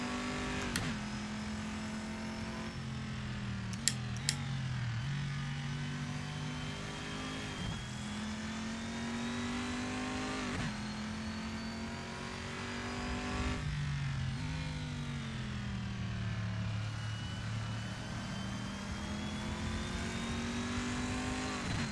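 A GTE race car in Assetto Corsa accelerates hard at Road America, its engine climbing through repeated upshifts with rising and falling revs. The loud, steady engine drone continues through the whole run with no voices.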